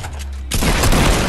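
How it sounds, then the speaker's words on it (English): A submachine gun in a video game fires a burst, a sudden loud crackling volley of rapid shots that starts abruptly after a brief quieter moment and continues to the end. "I'm taking this burst of this SMG right here"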